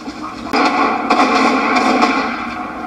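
Gunfire from a television broadcast of the crime drama Boardwalk Empire, a sharp report followed by a couple more bursts over a dense, steady soundtrack bed, heard at moderate loudness through a room.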